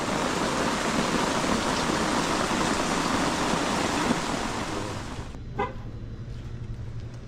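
Steady rain pours down at a lakeside campsite, a dense, loud hiss that holds for several seconds before cutting abruptly to a quieter background.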